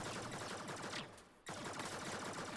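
Enemy gunfire in the video game Warframe, a dense, continuous rattle of rapid shots that drops out briefly before resuming at full loudness.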